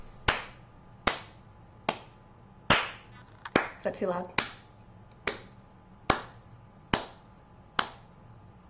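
Sharp single hand claps, nine evenly spaced in a quiet room, each crisp and close with a short ringing tail, while someone speaks briefly midway through.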